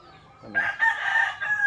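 A five-year-old rooster crowing once, loud and close, a single drawn-out call with a rising start and a sustained ending.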